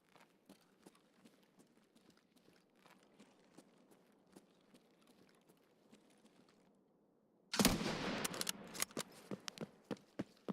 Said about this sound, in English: He shot, I timed my shot to shoot at the same time so people would confuse it and think only one shot happened